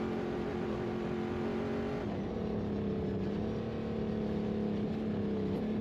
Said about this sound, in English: Listen to that truck really getting after it.